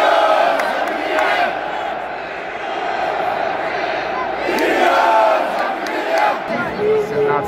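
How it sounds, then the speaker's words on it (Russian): Krylia Sovetov football fans chant in a stadium in Samara during a match against Nizhny Novgorod, a dense, steady roar of massed voices with rising surges, loud and continuous throughout. "Болельщики крыльев сегодня завелись."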